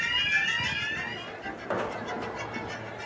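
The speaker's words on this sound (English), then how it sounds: "By the evening, there was just the sound of the alarms in shops that had been broken into." Shop burglar alarms ring out along a city street after break-ins during rioting, a steady electronic tone sustained under murky street ambience with a brief louder burst partway through.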